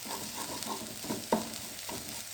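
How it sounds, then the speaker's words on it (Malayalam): Ponnanganni greens fry in a pan while a spatula stirs and scrapes through them, giving a steady sizzle with soft rhythmic scraping and one sharper knock near the middle, close and alone. "അപ്പോൾ ആ നടുവിലത്തെ ഭാഗത്ത് മാത്രമായിട്ട് ഇത് ചിക്കി കൊടുക്കുക"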